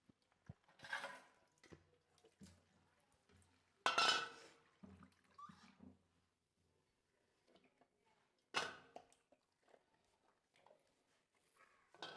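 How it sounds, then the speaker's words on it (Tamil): Peeled brinjal being washed by hand in water for brinjal gravy, giving soft splashing and sloshing with a few clinks of a pot or vessel, in intermittent bursts with quiet gaps. "கழுவல இப்போ கழுவி எடுக்க போகிறேன்"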